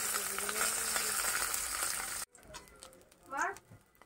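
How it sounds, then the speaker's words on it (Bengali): Two fish fry in hot oil, a dense, close sizzle that cuts off abruptly halfway through, followed by quiet handling noises and a brief voice. "এই যে মাছ দুটো ভাজি করলাম"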